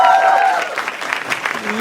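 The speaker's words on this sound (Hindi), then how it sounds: "जोर तालियां हो जाए पैनल के लिए" A comedy show audience applauds for the panel in a brief, steady wash of clapping, with a host's voice talking over it.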